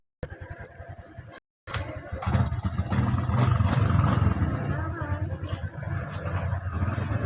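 Motorcycle engine running close by, a steady throbbing idle that rises slightly and holds, after a brief cut with some talk at the start.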